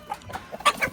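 Comet hens clucking inside a coop, a quick run of close, bright clucks and calls over about one second.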